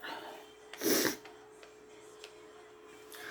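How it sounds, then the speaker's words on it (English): A single short, breathy sniff close to the mic, then quiet with a few faint clicks and rustles. "I don't know why I'm sniffling now."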